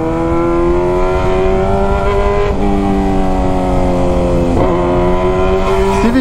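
Honda Hornet motorcycle with a straight pipe revving hard, loud and close, its engine pitch climbing in steady rising sweeps with brief drops between gear shifts, no talk over it.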